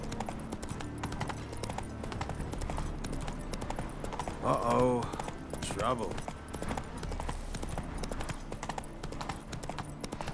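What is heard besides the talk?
horse hooves galloping in a video game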